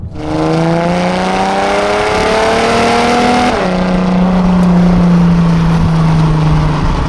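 A tuned Audi A5 3.0 TDI diesel on a race track gives a loud, steady engine drone whose pitch climbs through a gear, drops sharply at a shift, then holds high and even, heard up close with no talk.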